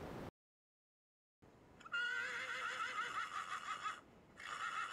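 A horse at a rescue ranch whinnies in a long, wavering, high-pitched neigh, then a second shorter call, loud and close after a moment of silence.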